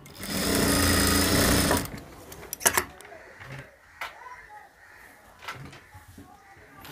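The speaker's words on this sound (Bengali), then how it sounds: "আমি আটকানোর জন্য একটা সেলাই দিয়ে নিচ্ছি এবং এখানে উপর পাশেও আটকানোর জন্য আমি একটা সেলাই দিচ্ছি।" A sewing machine runs fast and steady for about two seconds while stitching a band collar with piping, then stops, leaving scattered clicks and soft handling noises.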